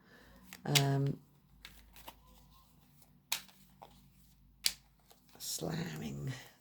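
Tarot cards being handled and shuffled, with a few quick papery riffles and slaps between stretches of quiet, plus brief vocal sounds.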